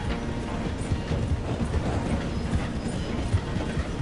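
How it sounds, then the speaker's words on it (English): A train in Red Dead Redemption 2 rumbles through a station as it slows, a low, steady rolling clatter with irregular knocks and clip-clop-like hoofbeats layered in, fairly close and without pause. "The train is slowing down to go through the station."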